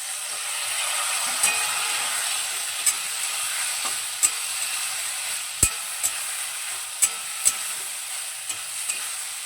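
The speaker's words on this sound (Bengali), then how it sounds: "আলু এবং সয়াবিনটা মশলার সঙ্গে খুব ভালোভাবে কষিয়ে নিচ্ছি।" Soya chunks and potatoes sizzle steadily in hot oil with spices, a bright continuous frying hiss broken by sharp scrapes and knocks of a stirring spoon against the pan, close and loud with no talk.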